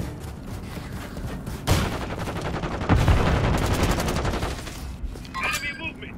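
Call of Duty combat gunfire: loud, rapid automatic bursts erupt partway through and rattle on densely for several seconds, with shouted voices mixed in and another short burst near the end.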